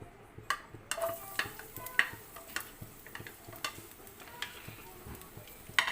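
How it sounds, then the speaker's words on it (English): Minced garlic sauteing in two tablespoons of hot oil for a Filipino-style chicken curry: a faint, thin sizzle with scattered stirring clicks and light pan taps, fairly quiet and close. "And just saute for like a few seconds"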